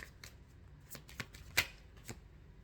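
Fortune-teller's cards being shuffled on a table at a French clairvoyance reading, a handful of crisp, separate riffling snaps spread over a couple of seconds, fairly close, with one sharper slap midway.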